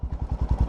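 A Royal Enfield Himalayan motorcycle with a Lextek exhaust and no baffle fitted idles in loud, rapid, evenly spaced low thumps, each pulse clattering close by without talk.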